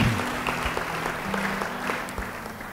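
An audience at a church sermon breaks into steady, dense applause that continues throughout, with a voice faintly present at the start.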